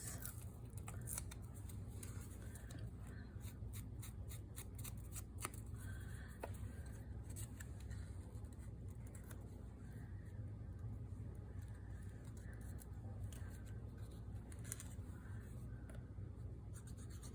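Scissors cut paper for a handmade journal, giving faint, close snipping and crisp scratchy clicks that come in irregular bursts over quiet room hiss, with no talking.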